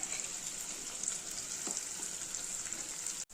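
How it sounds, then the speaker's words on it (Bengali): Onion and whole green chilli frying in hot oil, a steady close sizzle with a bright hiss running unbroken and a brief stir partway through, with no voices. "গরম তেলের মধ্যে পেঁয়াজটা দিয়ে দিলাম। একই সঙ্গে আমি লঙ্কাটাও দিয়ে দেবো।"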